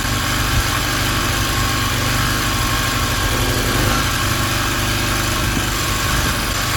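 A portable generator engine runs slowly just after the choke is turned off, a steady, loud, close mechanical drone with a constant rumbling hum that holds level throughout, with no voices.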